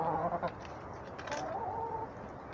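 Chickens in a backyard henhouse built from salvaged materials in a garden in northern France, with soft clucks and bird calls murmuring close by over steady low background noise, no talk.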